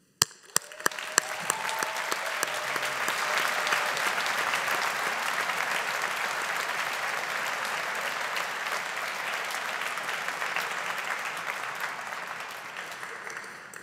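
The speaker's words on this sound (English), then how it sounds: "not quite as big an applause for that bunch" A large graduation audience at a university Faculty of Science ceremony breaks into broad, sustained applause that swells within the first second and holds steady, dense and even, for over ten seconds before easing slightly near the end.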